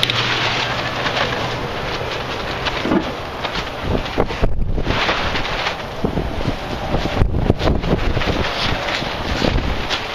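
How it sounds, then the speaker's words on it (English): Strong outdoor wind blasts against the microphone during extreme weather testing of a Liberty BBQ grill. The roar is loud and continuous, with gusts that swell and ease and no voices. "It's just a little bit windy, and it never stops."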